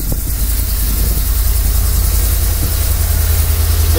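A U-Haul 26-foot moving truck idles nearby, its engine giving a steady, loud, low rumble that holds even throughout with no revving and no voices.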